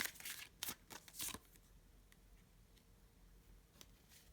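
Tarot cards riffled and shuffled in a few quick, crisp bursts over the first second and a half, then quiet, faint card handling and soft taps.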